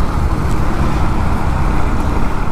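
Steady road traffic roars around a small bike on the move, a dense low rumble of cars, buses and trucks on a busy road, continuous and fairly loud throughout, with no voices.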